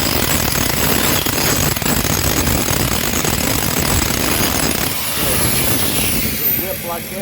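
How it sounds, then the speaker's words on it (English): An angle grinder roars loudly and continuously against steel, knocking weld slag off a weld. The harsh, steady buzzing sounds close by and fades slightly near the end. "So I just take the grinder."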